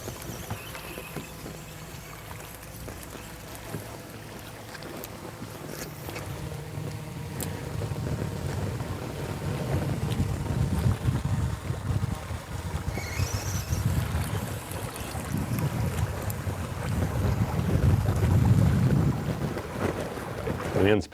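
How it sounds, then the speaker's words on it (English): Wind gusting over a lake during a bass fishing tournament, a roaring buffet against the microphone that builds and strengthens over time, with boat and water noise beneath it. "The wind's picking up a little more today than it has the previous 2 days."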